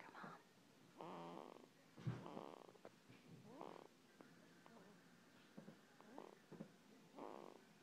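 Soft, rhythmic snoring breaths repeat roughly every second, fairly close, with faint voices and background noise in between.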